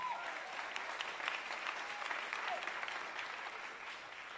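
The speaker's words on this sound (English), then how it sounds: "let's give them another round of applause" Applause from the audience at an evening criminal justice event in Los Angeles, a soft, even wash of many hands clapping at a distance that slowly fades, with no speech.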